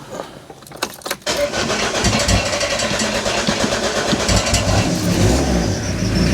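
A Ford Fiesta Mk4 van with a swapped engine, jump-started from another battery, cranks briefly with key rattle and a few clunks, then catches and runs loudly close by with the throttle blipped into a steady rev.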